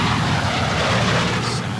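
A loud, steady engine roar fills the air as an F-15 intercepts a private plane, a continuous broadband rumble and rush that holds level throughout with no voices.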